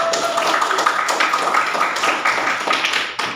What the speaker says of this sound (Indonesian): Tepuk tangan untuk Regita